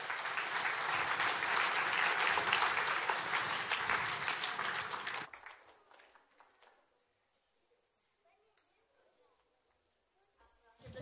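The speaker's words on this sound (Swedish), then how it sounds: "Så jag tycker att vi ger en stor applåd till dramat." A big round of applause for a drama performance fills the first five seconds, loud and dense, then cuts off abruptly into near silence with faint background rustles.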